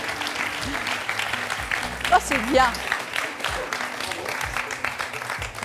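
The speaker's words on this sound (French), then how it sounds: "On va applaudir les 2 victoires de Sylvette" Studio audience applauding on a French television quiz show, a steady broad wash of clapping throughout with a host's voice speaking briefly over it.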